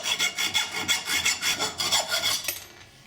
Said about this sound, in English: I'll mark the bolt just shy of the maximum depth and cut it off.